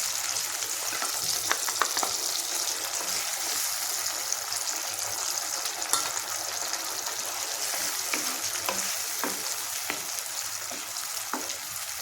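Crab and brinjal curry frying in a pan with tomato paste and ginger-garlic paste, a continuous low sizzle with occasional soft clicks from stirring, heard alone without voices.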